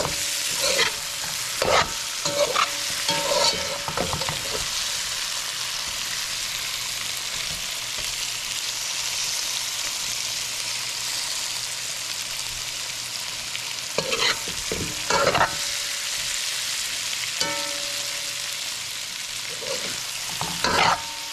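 Cassava and sweet potato pieces fry in a pot of oil with a steady, close sizzle, broken by intermittent clattering stirs and scrapes of a utensil against the pot.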